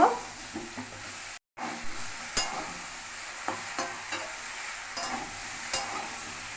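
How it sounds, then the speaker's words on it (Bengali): Ridge gourd and potatoes are stir-fried in a pan, with a soft sizzle under repeated scraping strokes of a spatula at an uneven rhythm, close and fairly quiet. "ঝিঙে দিয়ে আবার একটু ভালো করে কষা করে নেব"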